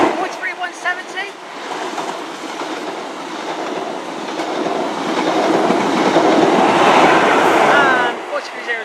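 A train from London Paddington to Penzance passes through Liskeard station on the Cornish Main Line, a loud, sustained rumble and rushing roar with wheel clatter that swells toward the end, then eases as it goes by.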